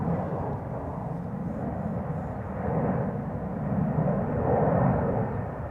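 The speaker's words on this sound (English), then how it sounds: "Second China Southern Cargo 777 to Guangzhou." A China Southern Cargo Boeing 777 freighter at Schiphol Airport makes a faint, steady engine rumble at a distance, rising slightly toward the end, with no talk over it.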